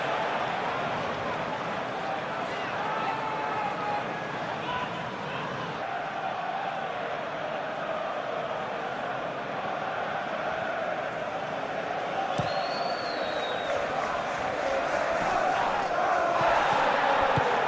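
A stadium crowd in the eFootball PES 21 video game during a simulated Fulham vs Chelsea match keeps up a dense, steady roar and murmur throughout, with no standout cheers.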